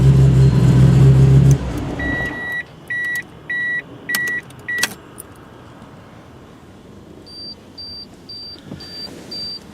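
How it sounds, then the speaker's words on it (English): A 1997 Nissan Skyline GT-R V-Spec R33 engine cuts off after a second or two of loud idle, followed by a quiet cabin with a run of short regular chimes, a click and a later series of higher beeps. "Go ahead and shut her down."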